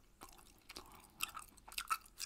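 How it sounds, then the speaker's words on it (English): Gum chewed close to the microphone in an ASMR reading session, giving soft, irregular wet smacks and small crunchy clicks that are quiet and intimate, with no talking. "gum chewing is a big ASMR trigger for me"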